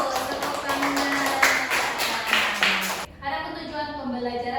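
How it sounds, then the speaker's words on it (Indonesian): A classroom of students claps together for about three seconds in a quick, even patter, then stops and a voice continues talking over faint room noise. "Tepuk tangan."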